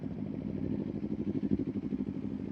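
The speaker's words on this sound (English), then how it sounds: "Dude, his new exhaust sounds so good." A Kawasaki Ninja 500 motorcycle fitted with a new exhaust burbles and pulses in a steady, rhythmic low throb, moderately close and without talk.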